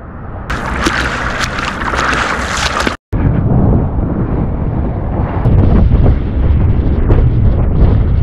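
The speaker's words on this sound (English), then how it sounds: "there's already wind" Strong wind roars and buffets the microphone while windsurfing off Hayling and Portsmouth, loud and constant with a brief dropout partway through, then gusty rushing and water sounds, with no talking.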